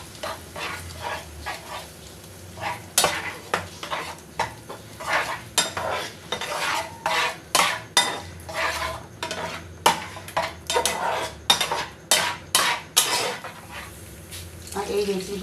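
Beaten fish roe being stirred into cooked, finely ground poppy-seed amra mixture in a pan, with repeated scraping and clinking strokes of a utensil against metal over a soft sizzle, close and fairly loud.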